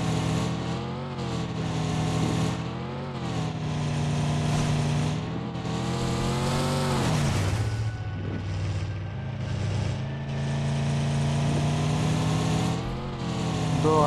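A car driven in the video game PUBG, with a continuous engine drone whose pitch sweeps up and down as it accelerates and shifts, loud and steady throughout with a brief rough patch midway, and no speech.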